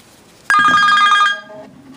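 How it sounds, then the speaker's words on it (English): A Nokia 225 mobile phone rings for an incoming call, a loud, bright electronic ringtone with a trilling bell-like pattern that starts abruptly and fades after about a second. "now let me just ring this phone up."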